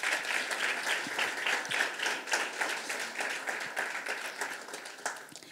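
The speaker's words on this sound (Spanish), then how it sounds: "Un aplauso para ellos." An audience at a church evangelism workshop applauds warmly, a dense, steady patter of many hands clapping that fades slightly toward the end.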